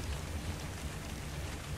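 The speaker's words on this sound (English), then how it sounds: "Oh, it's raining!" Rain falling in the video game ARK: Survival Evolved, a fairly quiet, steady patter of drops with low rumbling underneath, continuous and free of speech.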